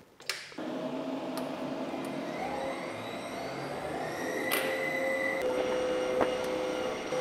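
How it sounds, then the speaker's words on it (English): A vacuum leak detector machine for an ultra-high-vacuum chamber runs with a steady, close mechanical hum and whir, joined by a few brief clicks and a faint tonal whine later on. "Now it's time to check it for leaks with leak detector, which is the machine over here."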